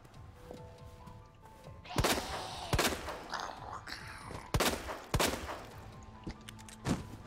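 Gunfire in Resident Evil 2: sharp, loud shots ring out in irregular bursts, several sharp cracks spaced a second or so apart over a low ambient game rumble, with faint murmuring in between.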